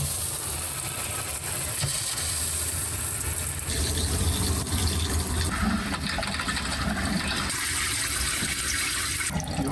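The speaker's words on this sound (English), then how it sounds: "go inside and turn on the faucets and let everything run" Water runs steadily from the faucets inside a camper being un-winterized, a continuous hiss and splash with a low engine-like hum beneath and a shift in tone partway through; no one speaks.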